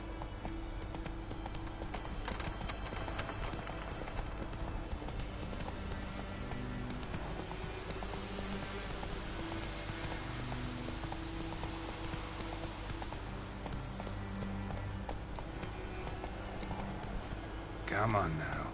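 Horse hooves of Roach clip-clopping in Witcher 3: Wild Hunt, a steady rhythmic trot continuing throughout under game music and ambience, with a voice speaking over it.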